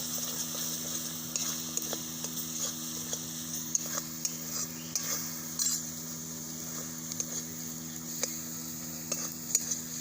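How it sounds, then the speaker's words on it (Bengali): Wood apple chutney with chili powder is stirred in a pan, giving a faint steady sizzle under light scraping and tapping strokes at an even pace, close and fairly quiet throughout. "লঙ্কাটা দিয়ে একটু নাড়াচাড়া করে নেব এইভাবে নাড়তে থাকবো"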